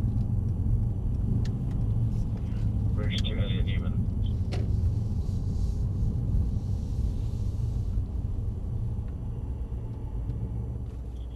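A Mercedes-AMG car accelerating hard on a track, its engine a loud, steady rumble that holds throughout with brief clicks and knocks inside the cabin.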